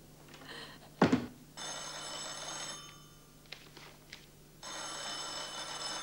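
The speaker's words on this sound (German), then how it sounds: "Geh doch mal ans Telefon." An old telephone bell rings indoors in a 1980s Czechoslovak setting, with long metallic ringing bursts separated by pauses and a sharp knock at the start, over a low steady hum.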